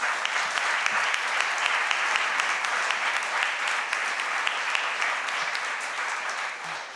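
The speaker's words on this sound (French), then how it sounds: "on va vous applaudir." An audience applauds student presenters steadily, a dense wash of clapping that holds for several seconds before easing off slightly at the end.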